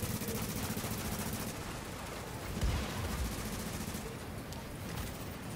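Gunfire during a match of the video game The Division: rapid bursts of automatic shots and heavy impacts, loud and continuous over game noise.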